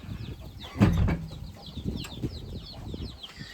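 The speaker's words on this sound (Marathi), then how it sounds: "कोंबड्या आल्या दादा बाकीच्या बाहेर" Hens come out of their coop on a farm, with a burst of wing flapping near the start followed by softer rustling, scratching and faint clucks, fairly close and with no talk.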